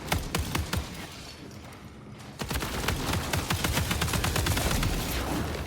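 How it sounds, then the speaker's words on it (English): A heavy machine gun in the Marathon video game fires in rapid, continuous bursts, loud and close, over a dense game soundscape with a brief lull before the fire resumes. "That's a heavy machine gun."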